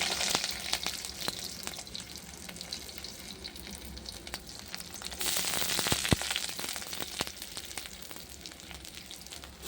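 Chopped onion frying in hot mustard oil in a heated pan, a loud continuous close sizzle with scattered crackles and occasional stirring scrapes, no talk.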